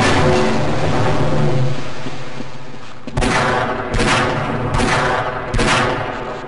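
.357 Magnum revolver shots in the video game Half-Life: four loud, sharp booming reports spaced about a second apart, following a stretch of rumbling game ambience.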